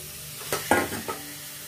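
Cleaned chicken goes into a pan of fried masala and sizzles, with a few short scraping stirs in quick succession, close up and moderately loud before the sound settles back to a low hiss.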